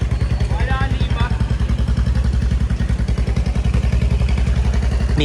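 A motorcycle engine runs steadily and loudly at close range with a fast, even idle-like pulse throughout, while people talk over it.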